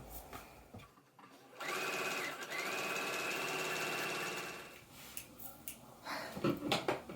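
A sewing machine stitches Persephone pants, running steadily for about three and a half seconds before stopping, with quieter handling sounds on either side.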